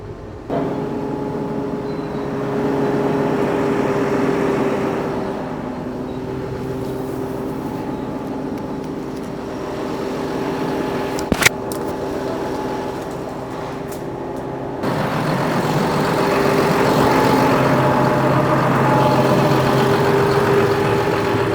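A tractor engine used for brushing snowmobile trails runs steadily throughout, a low rumbling drone with a brief sharp click midway, growing somewhat louder and fuller in the final stretch.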